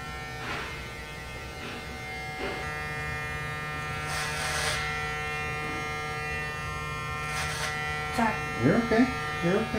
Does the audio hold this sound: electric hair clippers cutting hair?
yes